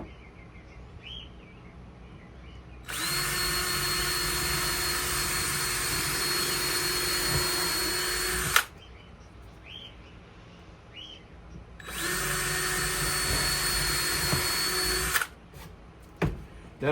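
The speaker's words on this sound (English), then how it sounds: "So I'll drill it through the plywood first" Two long bursts of a power drill whirring steadily through plywood, each several seconds, separated by a quieter pause, close by.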